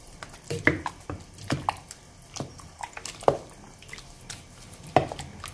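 A spoon stirs mini quiche filling in a bowl, giving soft wet squishes and light scrapes at an uneven, unhurried pace, close up and quiet, with no talking.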